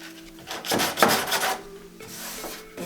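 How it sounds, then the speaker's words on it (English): Someone sands by hand nearby with uneven rasping strokes, a few quick scrapes swelling and fading over a couple of seconds at moderate loudness. "still sanding"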